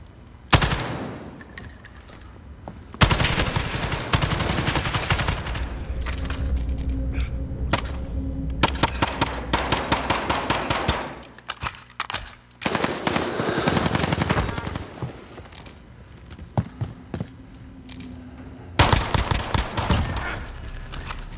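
Gunfire in Call of Duty: Modern Warfare, with loud sustained automatic bursts and rapid cracks that come in several long volleys separated by short pauses, close and dominant.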